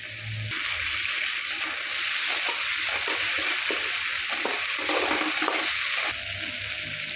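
Tomatoes frying with ginger garlic paste in a pan for prawns chilli, a loud, steady, broad sizzle with faint stirring scrapes that swells after a brief start and cuts back near the end, close and without talk.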